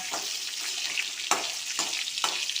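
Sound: onions frying in a pan for mango chutney

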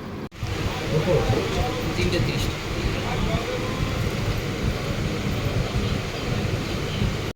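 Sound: riding a passenger train from Sealdah

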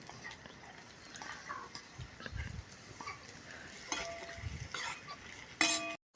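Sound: onions frying and being stirred in hot oil for biryani

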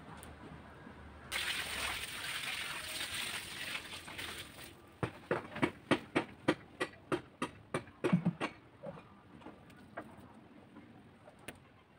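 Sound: watering plants with a watering can

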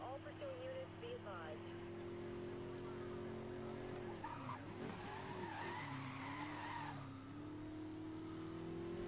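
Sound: Ford F150 truck drifting, tires skidding, Need For Speed Most Wanted video game

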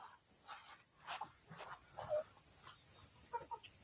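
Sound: rooster clucking while its feet are washed

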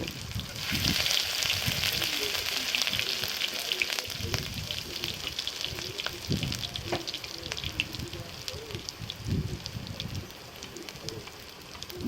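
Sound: ginger frying in oil

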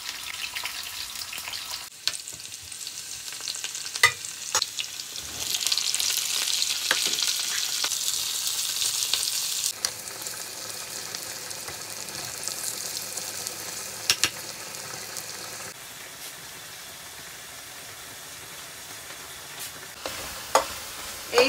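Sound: onions frying with garlic for prawn dopeyaja

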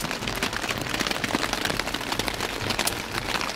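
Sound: large hailstones falling on a tent

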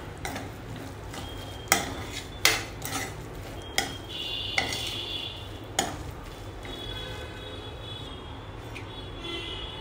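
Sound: stirring spice mixture with chili flakes in a bowl

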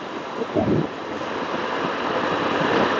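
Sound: road noise while riding a motorcycle

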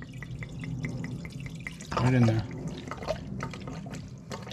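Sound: Amsoil engine flush poured into Toyota Tundra engine

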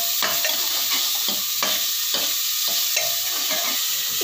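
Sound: chopped onion being stir-fried in a pan

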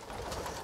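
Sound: sick pigeon cooing

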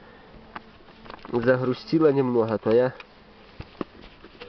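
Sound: bees buzzing around a hive

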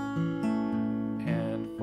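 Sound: fingerpicked guitar pattern, thumb alternating bass

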